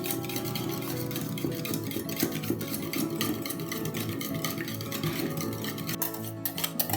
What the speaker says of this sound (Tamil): பால் ஊற்றிட்டு இந்த மாதிரி ஒரு விஸ்கை வச்சு அதை நல்லா மிக்ஸ் பண்ணிக்கோங்க.